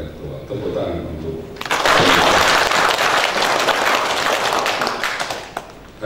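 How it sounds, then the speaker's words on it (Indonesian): Audience applause breaks out during an MoU signing ceremony with the Indonesian National Police at a university, dense and loud after speech over a sound system, then dwindling toward the end. "Tepuk tangan untuk"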